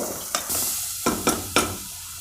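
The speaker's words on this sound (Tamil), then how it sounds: "இந்த நெய்லேயே இது நல்லா ஒரு 2-3 மினிட்ஸ் நல்லா வதக்கிக்கோங்க." Mango pieces sauté in ghee in a pan, a steady close sizzle broken by several sharp scraping stirs and clinks of a spoon, with no talk.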